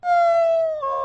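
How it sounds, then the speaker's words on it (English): A dog howls in one long, loud, sustained tone with rich harmonics, dipping slightly in pitch near the end, heard close and alone with no talk. "That's my dog when I come home."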